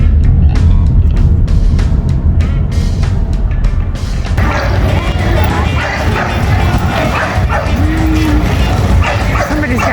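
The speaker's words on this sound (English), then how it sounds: "Somebody's got a not so happy dog." A dog barks, yips and whimpers excitedly in a busy town parking lot during a summer solstice festival in Fairbanks, Alaska, sharp repeated yelps close by at first, then fading into crowd noise and traffic rumble.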